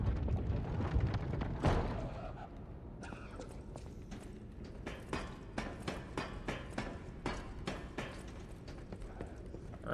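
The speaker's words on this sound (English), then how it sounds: "Are those even horses? Yeah, they gotta be horses." Horse hooves clip-clop in the game Lies of P, a quick run of sharp, evenly spaced hoof strikes that grows into a steady trotting rhythm, close and distinct, with occasional heavier thuds.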